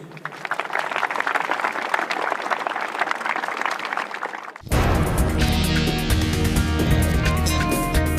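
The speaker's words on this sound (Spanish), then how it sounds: "Un aplauso para ustedes y muchas gracias por recibirnos." Audience applause at a community gathering in Bolivia, dense rapid clapping for several seconds before it cuts abruptly into music.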